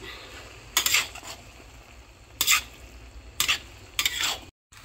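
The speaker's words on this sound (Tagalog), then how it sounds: "nilagay na natin yung pasta dyan sa at pinaghalo natin yung pasta at saka yung mushroom natin" Pasta and mushrooms are stirred in a frying pan, with four bursts of scraping and clinking stirring over a soft, steady sizzle.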